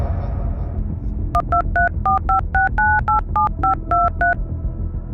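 Fourteen quick two-tone telephone keypad beeps sound in an even rhythm, close and clear, over a low background hum.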